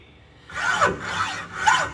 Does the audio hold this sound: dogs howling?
no